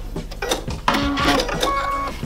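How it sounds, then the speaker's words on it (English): A sewing machine stitches a strip of crazy patchwork fabric in short close mechanical bursts, loud and near, running almost without a break. "And I'll finish sewing at the end of that strip."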